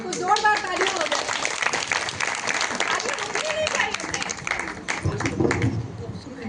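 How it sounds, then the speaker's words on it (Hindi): A crowd at a Jain temple gathering applauds with dense, sustained clapping, with voices mixed in and cheering faintly beneath the noise. "जोरदार तालियां हो जाए"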